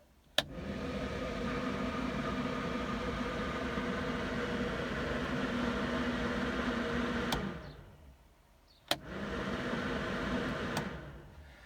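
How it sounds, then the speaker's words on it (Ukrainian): A tractor cabin ventilation fan in an MTZ-80 hums steadily at one speed, cut off briefly by a click and then switched back on, running evenly again. "Вентилятор дує дуже чудово."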